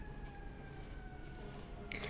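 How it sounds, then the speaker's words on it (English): A faint siren wails far off, steady tone drifting slightly in pitch, under a quiet hum of room noise. "I'm hearing the ambulance in the background"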